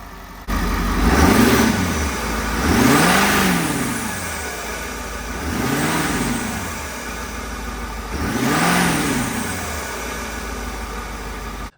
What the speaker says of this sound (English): rev up the engine a little bit so you can hear the sound of the new